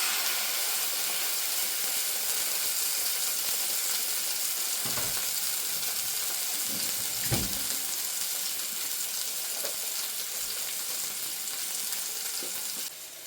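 Steak sizzles in a hot pan beside a cooking chicken fajita pan, a steady bright hiss running throughout with a few brief pops and crackles, close and continuous with no talking.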